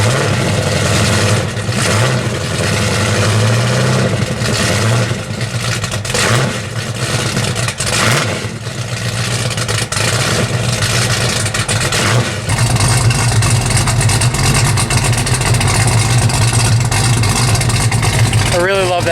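A 455 Pontiac V8, bored 30 over with 9.5:1 compression and 6X heads and no choke, revs loudly and continuously up close at a Pontiac car show, its deep rumble rising and holding with a steadier, harsher stretch near the end.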